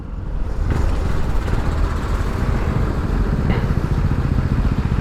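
A new 2024 CFMoto NK250 motorcycle engine runs steadily during break-in, a loud, close, continuous mechanical rumble with a slight clatter and no talking.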